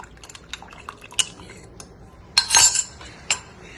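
A spoon clinks and scrapes inside a glass of sharbath with chia seeds, a string of light taps followed by a louder burst of stirring clatter and a final clink, close up and fairly quiet with no talking.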